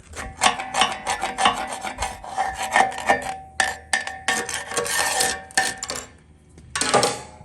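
Metal is ground on the push block of a CAT 637G scraper, producing close, harsh rasping bursts that stop and restart with brief pauses between passes.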